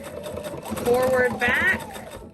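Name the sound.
sewing machine stitching a Christmas pillow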